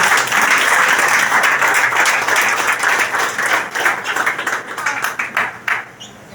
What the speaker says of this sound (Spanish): le doy un buen aplauso a nuestro Señor